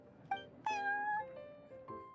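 A cat in the Genshin Impact game world, at the Cat's Tail, gives a few clear meows, a short chirp followed by a longer drawn-out mew and a softer one, close and alone.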